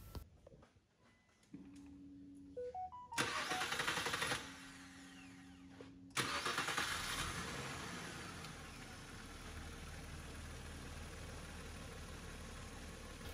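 Clicks and rising beeps lead into a Nissan car engine cranking and catching, then settling into a steady idle that continues to the end.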